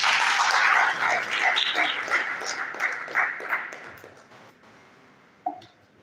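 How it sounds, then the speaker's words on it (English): A crowd at an end-of-year gathering claps for retirees, loud and dense at first, then thinning and tapering off, with one last sharp clap near the end. "Can we give them another round of applause?"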